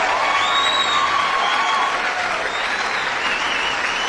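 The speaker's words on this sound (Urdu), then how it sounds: "بہت ساری تالیاں ہمارے اس hero group captain Fahim Khan کے لیے" Loud, sustained applause from a crowd honouring Group Captain Fahim Khan, a Pakistani military hero. The clapping stays dense and steady for the whole stretch.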